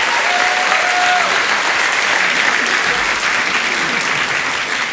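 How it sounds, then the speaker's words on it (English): Another round of applause from a festival audience for a panel of satirists, a thick, even wash of many hands clapping that holds steady and loud from start to finish. "Let's give them another round of applause"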